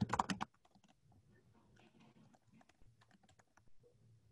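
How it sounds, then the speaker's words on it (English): Typing on a computer keyboard to write a social media post, with a brief loud flurry of keystrokes at first, then quieter, scattered clicks close by, and no talking. "If I now type a post,"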